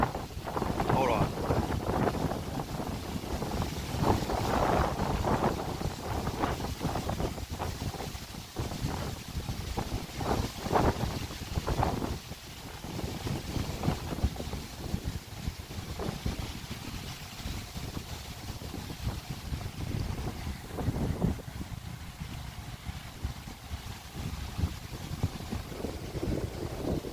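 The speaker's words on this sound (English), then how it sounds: "Like I said, it's hella windy." Strong wind buffeting an outdoor microphone at a camp, a loud continuous rumble and roar with gusts, under a voice talking throughout.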